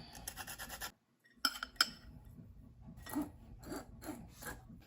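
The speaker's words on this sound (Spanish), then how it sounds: "Después de cernir la harina" Flour being sifted for a tropical cake batter, baking soda, baking powder, salt and nutmeg mixed in, giving a soft rhythmic rasping and rubbing close by, with a brief pause and a couple of sharper taps partway.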